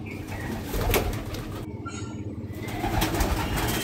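A Madrasi breeder pigeon in a home loft gives soft, low cooing, close and fairly quiet over a faint background rustle.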